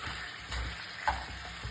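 Chicken with spices is stirred in a pan, a brief stretch of soft scraping and shuffling over a low sizzle, close by and fairly quiet.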